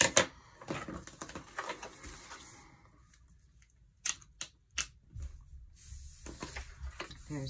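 Scissors cut a piece of paper for a paper flower, making close crisp snips, first a run of rapid cutting, then a short pause and several separate louder snips, without talk.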